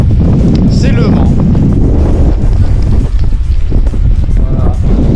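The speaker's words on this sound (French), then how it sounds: "Quand c'est pas la pluie, c'est le vent." Heavy wind roars and buffets the microphone continuously during a bicycle ride, a loud, rumbling gusting noise close up.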